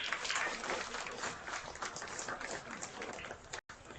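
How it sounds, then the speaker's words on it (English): An audience at a county fair sheep show claps steadily for about four seconds, a dense, even patter of applause heard from within the crowd before a brief cut. "Let's give Tani a nice round of applause."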